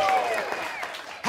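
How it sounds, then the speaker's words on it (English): A comedy show audience claps outdoors, a steady patter of applause with a few raised voices and cheers mixed in. "The most of the album is just going to be clapping."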